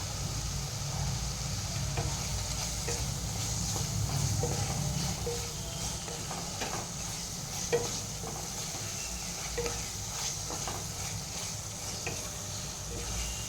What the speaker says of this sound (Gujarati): હવે આ બધી સામગ્રીને હું સરખી રીતે મિક્સ કરી લઈશ।